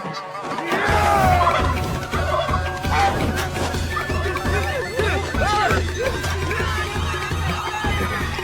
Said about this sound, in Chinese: 只见一个胖子放出了许多大鹅，缠住官兵